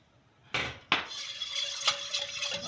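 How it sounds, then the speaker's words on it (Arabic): A béchamel mixture of milk, salt and black pepper being stirred in a pot with a utensil, giving a couple of sharp metallic clinks against the pot followed by softer scraping and tapping, close and fairly quiet. "اظل اخلط"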